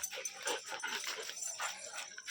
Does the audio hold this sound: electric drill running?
no